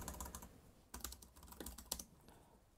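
Keys clatter on a computer keyboard as a Linux install command is typed, quick irregular bursts of clicks with short pauses between them, close and moderately quiet, no voices.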